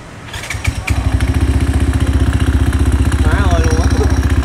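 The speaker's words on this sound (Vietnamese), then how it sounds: "Mình rất là thích âm thanh của nồi khô" A Yamaha Exciter motorcycle fitted with a dry clutch starts and settles into a loud, rapid, clattering engine rhythm close by, with voices talking over it.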